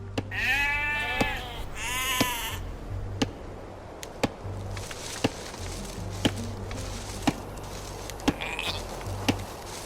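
Sheep in the Age of Empires 2 video game bleat twice near the start, followed by a steady series of regular chopping thuds under soft ambience.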